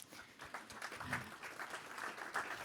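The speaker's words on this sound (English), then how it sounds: "Give her an applause." A conference audience applauds a speaker coming on stage with a steady, moderate clapping for a few seconds.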